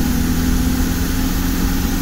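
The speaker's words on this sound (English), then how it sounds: "Next, I put to the floor in third gear." VW TDI diesel engine under full throttle in third gear, a car with low power and high fuel consumption; steady, loud engine drone with a strong low hum, continuous throughout with no talk.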